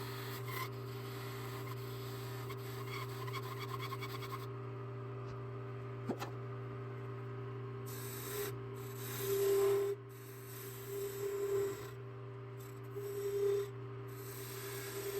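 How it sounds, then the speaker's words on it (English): Hand sanding of a handmade wooden wand, a steady soft rubbing rasp that continues through the whole stretch with a few louder swells near the end, close by and with no talking. "And then more sanding, of course, until it's nice and shiny."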